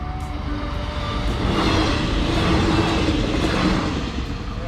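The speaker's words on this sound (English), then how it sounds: "this is a train from Strasbourg, Yeah? France, that goes to Offenburg" Continuous low rumble of a passing train from Strasbourg to Offenburg, with a steady roar and faint squeals over it, close and fairly loud throughout.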